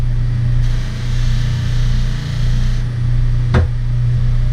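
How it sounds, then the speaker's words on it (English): A buffing wheel loaded with red rouge polishes solid brass door hardware, giving off a steady motor hum with a constant droning pitch and one brief sharp click near the end. "I'm going to load up the wheel with some red rouge and really give this a high luster"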